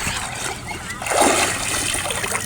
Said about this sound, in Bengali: তুই 10 বার ডুব দিয়ে দেখ